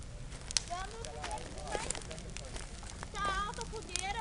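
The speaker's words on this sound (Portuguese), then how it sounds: "Tá alta a fogueira." A high campfire in the woods crackles with a few sharp pops beneath overlapping chatter and high children's voices nearby.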